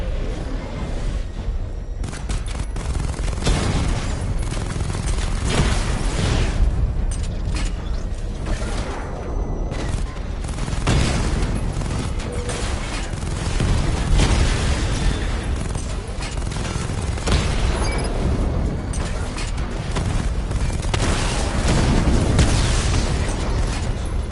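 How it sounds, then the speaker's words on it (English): Dense, continuous explosions and mechanical clatter roar from the Batmobile's missile barrage in Batman: Arkham Knight on PS5, loud and unbroken throughout with overlapping booms and bursts. "Charge up missile barrage to level 2 and destroy 4 active targets to complete diagnostic test"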